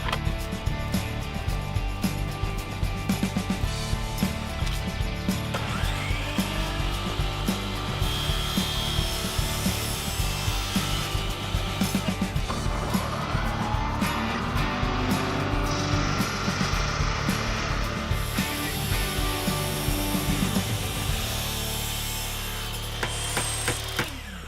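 Counterform wood edge profiles being cut, a continuous close grinding and rasping saw noise with rhythmic scraping strokes and a mechanical drone throughout.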